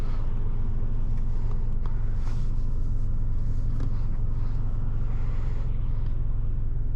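A 2013 Subaru BRZ drives on a road, its engine and tyre rumble steady and loud from inside the cabin, with a few faint clicks over the drone and no talking.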